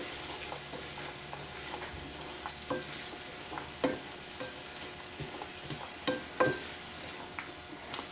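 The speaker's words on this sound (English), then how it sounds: "now my pan is starting to get warm, so I'm going to go ahead and give it a little stir" Garlic sizzling quietly in a warming pan and stirred now and then, a soft steady crackle with occasional scraping knocks from the spoon, close and gentle, no voices.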